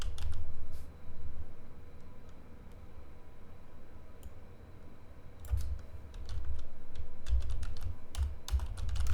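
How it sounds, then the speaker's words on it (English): Rapid typing on a computer keyboard, bursts of quick clicks separated by a few short pauses, close by with a low background hum. "Must be typing too fast here."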